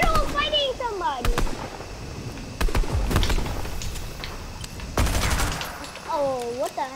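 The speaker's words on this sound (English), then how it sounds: "Who is shooting me in the middle of fighting somebody?" Fortnite gunfire cracks in sharp bursts and rapid volleys throughout, loud and close, while a player talks excitedly over the shooting alongside other game effects.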